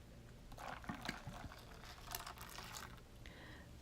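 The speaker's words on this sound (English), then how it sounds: "And then I'm going to add some more water." Water poured into a homemade cantaloupe kiwi lemonade with lemon juice and salt, a soft liquid splash and trickle running for a few seconds at moderate closeness, with some light clatter.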